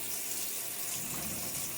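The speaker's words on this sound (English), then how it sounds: "And I'm going to turn on my water" Water runs steadily from a kitchen tap into a bowl, a close, continuous hiss and splash with no voices over it.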